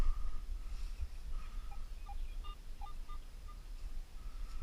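Intermittent electronic tones from a Garrett AT Pro metal detector chirp in short bursts, rising and wavering in pitch, over steady low forest background rumble with no talking.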